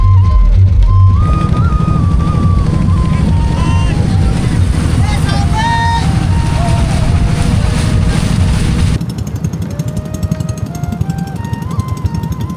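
A river boat's engine drones steadily under a group outing on the water, with people's voices and some musical tones layered over the motor noise before it drops off near the end.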